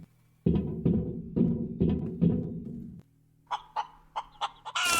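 A chicken in the video game Breathedge clucks: a run of low, rhythmic clucking pulses, then sharper higher squawks, close and loud with no talking.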